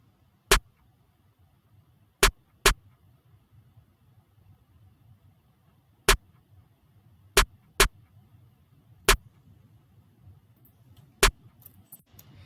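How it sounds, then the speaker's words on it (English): A programmed snare in a simple, sparse beat pattern: about eight sharp, dry hits spaced unevenly over a faint low hum, with nothing else playing. "One snare playing a pretty basic, simple pattern."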